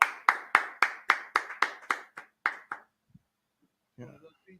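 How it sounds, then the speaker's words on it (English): About a dozen sharp hand claps from a small group, evenly spaced and fading toward the end, followed by a short murmur of talk. "Let's go ahead and clap it up"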